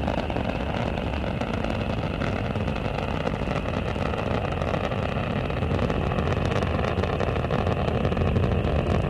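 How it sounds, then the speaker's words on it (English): Space Shuttle Endeavour's engines roar during the STS-68 launch, a dense, steady, broadband rumble that stays loud and unbroken throughout with no voices over it. "Endeavour's engines are now throttling down"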